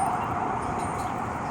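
An ambulance siren sounds close by on a city street, a steady loud wail filling the whole short moment with no pause and no talk over it.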